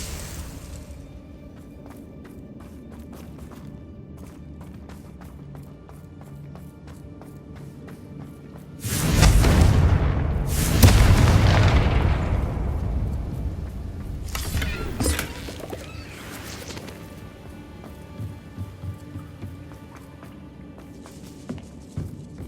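A Confringo fire spell from Hogwarts Legacy bursts into a loud, booming blast that rolls into crackling aftershocks over several seconds, with quieter rumbling game ambience before and after.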